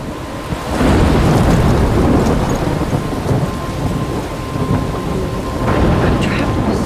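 A thunderstorm in the video game Life is Strange: heavy rain hisses constantly while a loud rolling rumble of thunder builds early and keeps grumbling, swelling again near the end.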